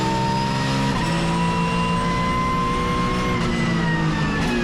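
Porsche race car at Zandvoort circuit accelerating hard out of a corner, a loud, steady, close engine drone with rising pitch throughout, no talking.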